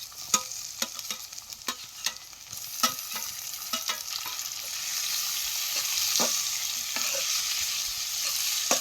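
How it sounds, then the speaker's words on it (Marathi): Tomatoes and onion fry in hot oil, a close, steady sizzle that thickens midway, broken early by sharp clicks of a spoon stirring against the pan. "टमाटर बी तेलात चांगलं भाजून घ्यायचं"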